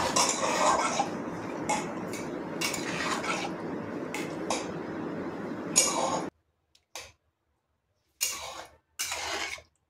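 A spoon scrapes and clinks against a pan while shukto, a Bengali mixed vegetable curry with fried spices and lentil dumplings, is mixed off the heat, in a busy clattering run that breaks into a few sharp isolated knocks.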